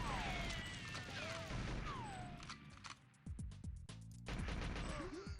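Gunfire and explosions in the GoldenEye 007 video game, a loud, dense run of shots and crashes with whooshing effects, briefly dropping before resuming, heard close throughout.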